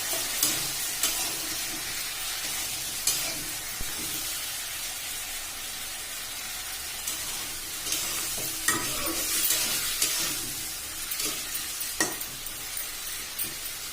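Chunks of papaya and potato are stirred into a spice paste frying in a pan, giving a steady sizzle broken by repeated scraping and clattering of the spoon against the pan, close by with no talking.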